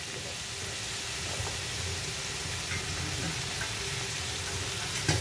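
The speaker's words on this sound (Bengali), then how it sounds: "এই সবজিটা আমার ভাজা হয়ে গেছে, এখন একদম কম আঁচে হচ্ছে।" Vegetables frying in a pan of shallow oil on very low heat while making pulao-style fried rice, giving a steady, soft, continuous sizzle with faint bubbling throughout, fairly close and even in level.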